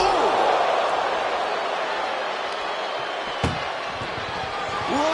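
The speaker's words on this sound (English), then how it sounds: "Oh, what a powerhouse collision here." A heavy thud of wrestlers colliding in the WWE 2K25 video game lands midway through a dense wash of roaring arena crowd noise, with a faint commentary voice running underneath.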